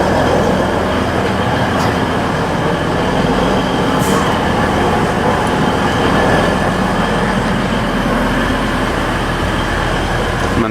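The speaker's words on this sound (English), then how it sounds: "we're on the Middlesbrough train now and we're going to go straight over to Yarm and then on to Middlesbrough" Inside the front carriage of a train on the Middlesbrough line out of Scarborough, a constant loud rumble of wheels and motor fills the air, with a faint rhythmic clatter and a couple of brief squeals.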